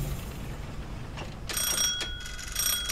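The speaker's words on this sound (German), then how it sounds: "Jetzt klingelt es gleich wieder." Bell ringing in the video game Haven Moon: bright, sustained metallic tones that start partway through and ring on over a steady low background hum, with a brief break before resuming.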